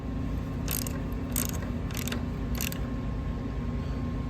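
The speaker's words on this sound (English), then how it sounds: "we're gonna snug these 3 bolts up" Ratchet clicking in four short bursts while bolts are snugged down on a cheap blow-off valve upgrade, crisp and close over a steady low background hum.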